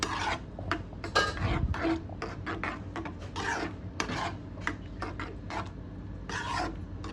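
Semiya payasam stirred in a pot, likely with a ladle, after cashew nuts go in: close, repeated scraping and rasping strokes in an uneven rhythm, fairly loud, with no talk.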